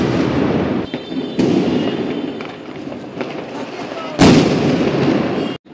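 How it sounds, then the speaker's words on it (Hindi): Diwali firecracker bombs bursting outdoors, a loud sharp blast near the start followed by a dense crackling roar and another big burst later, with dull rumbling background throughout. "गोला बम।"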